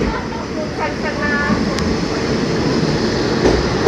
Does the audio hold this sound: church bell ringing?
no